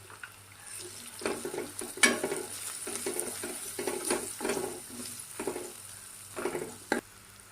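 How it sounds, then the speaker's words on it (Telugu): Ginger-garlic paste and turmeric fry in a pan for a drumstick and chicken curry. A quiet sizzle runs under repeated scraping and stirring strokes of a spoon, with no voices. "అల్లం వెల్లుల్లి పేస్ట్ వేసుకున్న వెంటనే కొంచెం వేగిన తర్వాత పసుపు కూడా వేసేసుకోవాలి"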